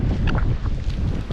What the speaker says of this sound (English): The wind's light